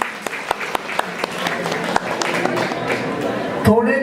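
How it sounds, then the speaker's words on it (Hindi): Applause for the chief guest at a Mother's Day celebration: steady crowd clapping with a few sharper nearby claps standing out, lasting a few seconds before a voice cuts in at the end. "एक बार जोरदार ताली बजाइए हमारे चीफ गेस्ट के लिए"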